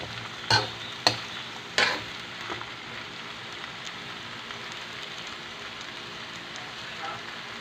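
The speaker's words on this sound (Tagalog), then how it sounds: "ilagay na ang ating pinakamasarap na takway mga boss ginataang takway haluin lang natin ang kaunti muna" Spoon stirring taro stems cooking in coconut milk in a pot, a few sharp scraping clinks near the start over a soft, steady simmering sizzle.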